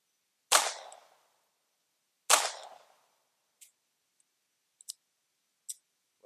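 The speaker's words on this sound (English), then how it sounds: "Well, that round just didn't fire." A Walther P22 pistol at a shooting range fires two sharp, loud shots with short decaying tails, then a round fails to fire, leaving a few faint, dry metallic clicks spaced apart in otherwise quiet air, with no talking.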